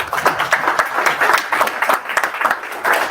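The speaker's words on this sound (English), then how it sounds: "On va applaudir." An audience at a Canada-Africa business conference claps steadily and continuously, a dense patter of applause from a room full of people.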